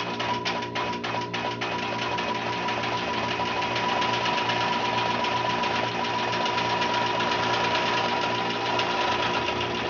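A longarm quilting machine runs steadily in a quilting studio, giving a continuous mechanical hum with a fast, even stitching rattle and a few sharper taps at the start, close and unbroken throughout.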